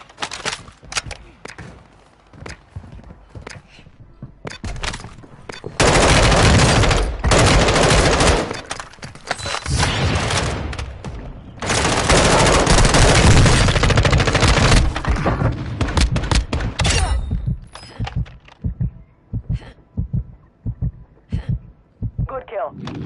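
Heavy gunfire in a video game shooter, long loud sustained bursts in two main stretches with scattered single shots before and after, close and dominant throughout.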